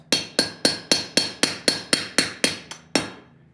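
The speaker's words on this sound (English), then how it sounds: "I'm going to run that chisel right down the middle" A hammer strikes a chisel into a hot steel leaf at a forge, ringing out about eleven sharp metallic blows at a quick, even pace, with a short pause before the final strike.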